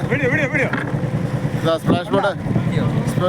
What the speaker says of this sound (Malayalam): സ്പ്ലാഷ് ബോട്ട് വന്നുകൊണ്ടിരിക്കുകയാണ്.